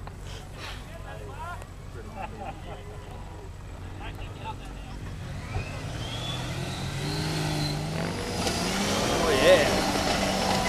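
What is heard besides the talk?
turbo diesel 4x4 engine revving while stuck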